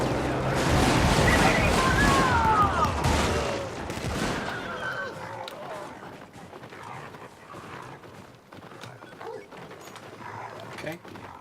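Heavy artillery barrage in a war video game, a dense roar of overlapping blasts and rumbling impacts for the first four seconds that fades into scattered distant crackles and thuds.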